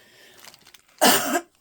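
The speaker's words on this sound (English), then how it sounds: "Pardon me for coughing." A single harsh, loud cough bursts out close to the microphone after a stretch of faint background sound, lasting about half a second and then fading away.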